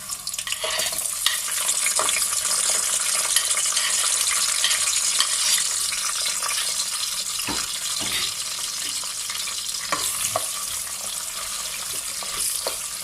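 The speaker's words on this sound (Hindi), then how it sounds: "प्याज को हम फ्राई करेंगे।" Steady sizzling of onions frying in hot oil, with occasional stirring clicks and scrapes, close and continuous with no talking.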